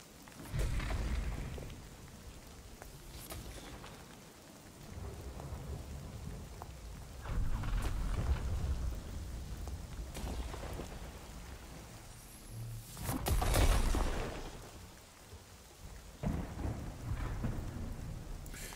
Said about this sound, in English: let's wait for the storm, see what happens